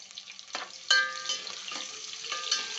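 Onions frying in oil in a pan as a tempering for putnala rice, a steady close sizzle with bursts of crackle and a few stirring scrapes, no voices.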